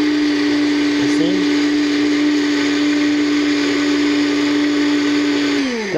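A blender purees red and yellow bell pepper soup with onions in a loud, steady whirring drone close by, its motor pitch holding constant before winding down as it switches off at the end.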